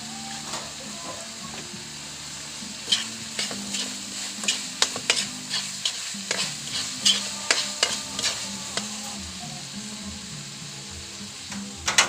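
Banana heart (ubod ng saging) sautéing in a pan, a steady sizzle under frequent sharp scraping and clattering strokes of a spatula against the pan, building toward the end, no voices.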